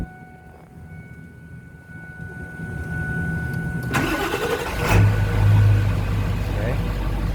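A Ford F250 pickup engine cranks and fires up, then settles into a loud, steady rumbling idle with a brief rev, recorded close by.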